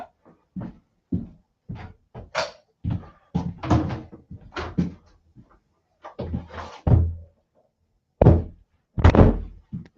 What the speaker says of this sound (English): Stiff door.